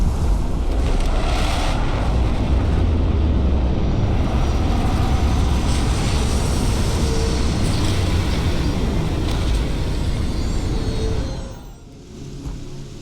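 A spaceship in Starfield sets down with a loud, sustained roar of engines and rushing air, then the thrust cuts and fades near the end.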